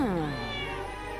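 A single cat meows in a video game, one drawn-out, falling meow heard clearly and alone, fairly close.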